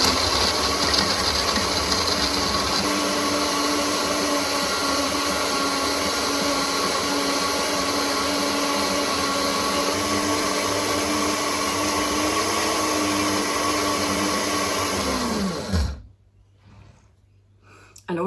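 A blender whirring steadily as it purées a thick lacto-fermented garlic cream, a loud continuous motor drone that holds for about fifteen seconds before spinning down and stopping.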